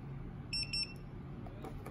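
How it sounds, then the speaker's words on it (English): ISDT N8 AA and AAA battery charger buzzer giving a few short high beeps during its startup self-check, close by over a low steady background hum. "You can change the loudness of the buzzer."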